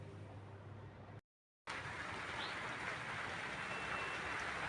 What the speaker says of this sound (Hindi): दोबारा बारिश शुरू हो चुकी है यहाँ पे।